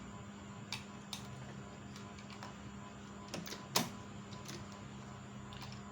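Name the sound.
Singer Computer 7900 sewing machine running a straight stitch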